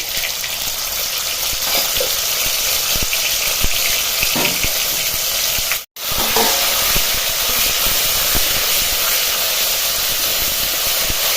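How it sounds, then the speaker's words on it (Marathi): Green chili paste sautéing in a pan with cumin and mustard seeds, giving a loud, steady sizzling hiss that runs nonstop apart from one brief cut midway. "मी चांगलं परतून घ्यायचं मिरचीचा जो कच्चटपणा आहे तो निघाला पाहिजे इथपर्यंत परतवायचे"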